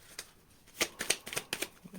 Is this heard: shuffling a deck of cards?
yes